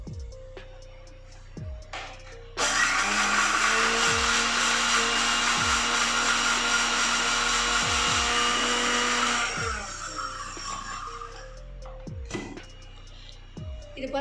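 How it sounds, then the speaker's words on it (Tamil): A kitchen mixer grinder grinds roasted chillies, coriander and cumin. It starts with a loud, harsh whirring roar that runs for about seven seconds, then cuts off, leaving quieter clatter and handling sounds before and after. "நம்ம வந்து மிக்சியில் போட்டுக்கலாம்."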